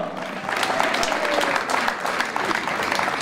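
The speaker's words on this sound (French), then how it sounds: "Alors aujourd'hui, on peut les applaudir encore." An audience at a cycling criterium in Saint-André-les-Alpes claps continuously, a loud, full patter of many hands sustained throughout with no voices standing out.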